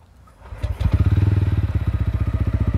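A 2023 Royal Enfield Hunter 350 motorcycle engine starts up and settles into a steady, deep, thumping idle with a rhythmic low pulse, loud and close.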